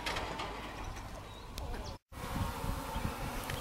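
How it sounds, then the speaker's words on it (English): Honey bees swarm busily around a farm beehive on an active day, a steady close buzzing hum running throughout, broken by a brief silent gap midway. "These bees are really active today."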